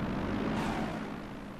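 Fairey Swordfish biplanes take off from an aircraft carrier in the IL-2 1946 flight game, a continuous rumbling propeller-engine drone that holds steady and slightly fades.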